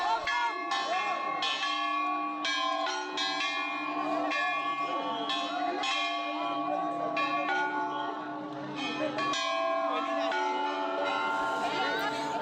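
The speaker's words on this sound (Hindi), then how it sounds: "यहाँ मैंने बजा दिया था घंटा" Temple bells ring repeatedly at a crowded Bhole Nath shrine in Bateshwar during the Kanwar pilgrimage, loud overlapping metallic clangs with long shimmering rings. Several strikes come in an irregular rhythm, close by, over a crowd murmur.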